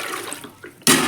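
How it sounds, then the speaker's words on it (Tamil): Water poured into the drum of a Shantha wet grinder for a second rinse, a sudden loud splashing gush arriving at the very end after a stretch of low background noise. "இப்போ செகண்ட் டைமாக தண்ணி ஊற்றி விட்றேன் கழுவுறதுக்கு"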